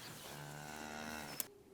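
A cow on a Texas ranch grazed on rotation lets out one long, low, drawn-out moo, fairly close and clear, ending abruptly with a brief knock.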